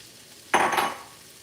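Chopped onion hits a hot frying pan with meat drippings for a taco Tuesday meal, a sudden sharp hiss that swells for a moment and then settles into a fading sizzle, close by with no talk.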